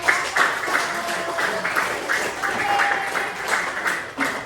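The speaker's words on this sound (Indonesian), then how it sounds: "Oke, silakan tepuk tangan" Students in a classroom clap together after a lesson on computational thinking, a close, moderately loud burst of applause with uneven rhythmic beats and faint voices underneath.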